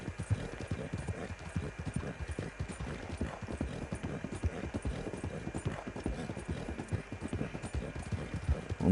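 A horse gallops at full speed in a hunting video game, a rapid, steady clip-clop of hooves drumming continuously and fairly close throughout.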